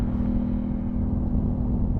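Aprilia Tuono 660 twin-cylinder motorcycle engine with a quickshifter, a steady loud drone with a strong low throbbing hum held throughout, close and alone.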